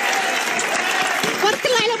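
Audience applause and cheering at a televised competition show, a brief burst of clapping with voices speaking over and through it.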